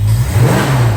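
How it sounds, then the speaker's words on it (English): A 1968 Plymouth Barracuda with a 318 V8 engine revs briefly as the throttle is tested, a loud, close, low rumbling surge that holds through a single short burst. "Let's see what the throttle response is like now."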